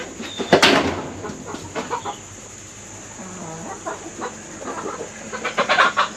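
Chickens cluck in a tropical chicken coop, close, intermittent bursts of clucking and squawks with short pauses between them, one louder call near the start.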